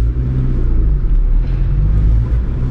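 A 9th gen Honda Civic Si rolling on a fresh set of new tires, a steady close engine and road rumble with a low droning hum that holds even throughout, no voices over it.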